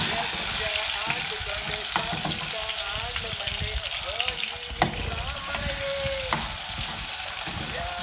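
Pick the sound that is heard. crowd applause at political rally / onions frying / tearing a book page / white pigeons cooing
onions frying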